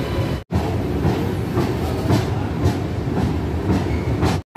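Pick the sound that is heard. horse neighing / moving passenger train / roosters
moving passenger train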